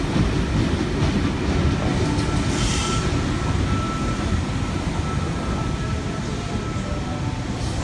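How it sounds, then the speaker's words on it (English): A Sydney V set double-deck train pulls out of platform 1 at Parramatta station, a loud, steady rumble of wheels and traction filling the platform with a faint squeal partway through. "V29 is now departing on platform 1. It's a Central Sydney Terminal service."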